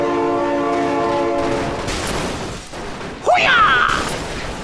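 A loud train horn blares in a vehicle video game, a steady harmonic blast lasting about two seconds, followed by engine rumble and a sharp rising shout-like burst near the end, with excited talking around it.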